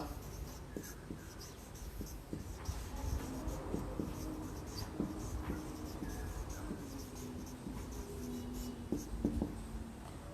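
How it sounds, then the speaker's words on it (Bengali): A pen scratches across paper while accounting entries are written, faint and close, with steady soft scraping strokes and small taps over a quiet room hum, no voices. "তাহলে এখানে আমরা লিখব"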